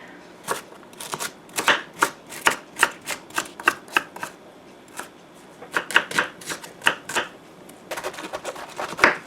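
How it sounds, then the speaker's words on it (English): Vegetables being chopped on a board for a Caldo de Res beef soup, crisp knife strikes in quick bursts with short pauses, close and clear with no talking. "as long as it takes for me to chop up these vegetables"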